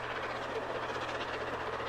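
A train running in Transport Fever 2 gives a steady, continuous rumble with a low hum, moderately loud and unbroken throughout with no talk.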